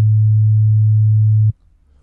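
A pure 100 Hz sine-wave test tone hums low and steady at full level for about a second and a half, then stops abruptly and leaves faint background noise.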